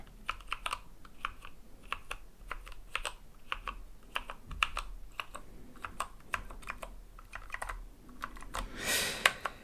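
Steady typing on a computer keyboard, close up, with rapid irregular key clicks throughout and a brief louder burst of clatter at the end.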